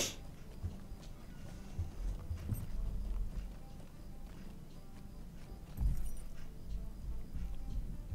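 Hooves clip-clop steadily as a horse is ridden in the Lord of the Rings Online video game, a close, continuous patter over a low rumbling game soundscape with occasional louder thumps.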